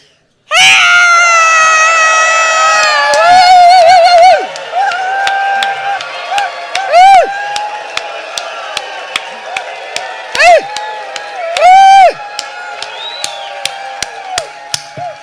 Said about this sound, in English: Let's do the cheer